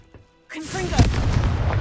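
A Confringo blasting curse from Hogwarts Legacy: a brief spoken incantation, then a sudden loud explosive boom that erupts and keeps roaring and crackling to the end.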